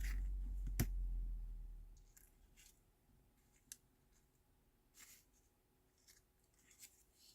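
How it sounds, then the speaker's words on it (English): Scissors snipping through card stock for handmade card making, a few sparse, soft clicks and crisp cuts close by over a low steady hum. "I'm going to cut this one"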